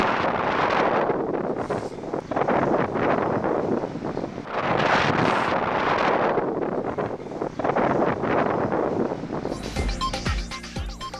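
Strong winds in Karachi roar in long, gusty swells that buffet the microphone, loud and continuous, with a brief tonal rattle near the end and no voices.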